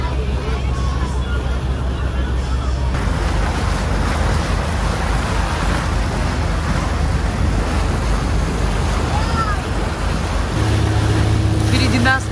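A small fishing boat motoring across the sea at night, its engine a steady close drone over wind and wave wash, continuous for the whole stretch, with a deeper motor tone coming in near the end.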